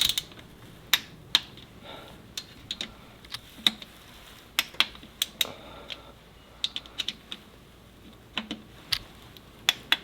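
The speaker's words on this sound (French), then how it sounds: "Allez, c'est parti pour le serrage angulaire." A ratchet wrench angle-torquing engine bolts on a Renault Mégane RS engine, sharp irregular metallic clicks scattered across a quiet background.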